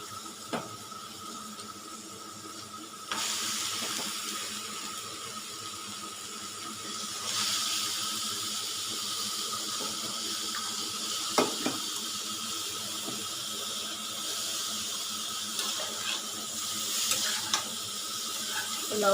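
Cut eggplant pieces are washed under running water in a sink, giving a quiet, continuous rush of water with faint splashes and small handling knocks. The flow grows louder after a few seconds.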